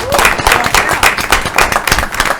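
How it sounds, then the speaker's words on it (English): Audience applause for a girls' team honored for winning a district title, steady clapping filling the room at close range, with no speech over it. "If you don't mind giving them a round of applause"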